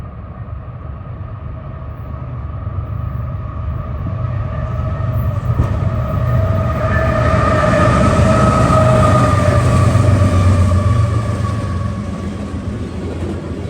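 The CP Holiday Train, led by an AC-44 with BNSF Gevo locomotives, rumbles past loudly and close, its engine drone swelling to a peak mid-pass before easing off, with no talk.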